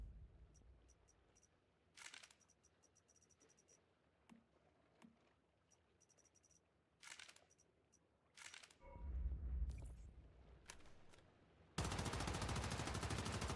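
Sparse gunshots in the survival shooter Once Human, with short isolated cracks early on and then a loud, sustained stretch of rapid fire at the end.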